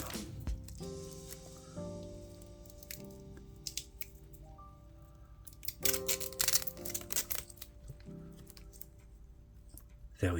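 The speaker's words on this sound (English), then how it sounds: "Let's take these bottom stickers off." Protective stickers being peeled off a Smiths Everest PRS-25 watch on a Jubilee bracelet, several soft sticky peeling and crinkling sounds in separate bursts, close and quiet, with faint tonal background music underneath.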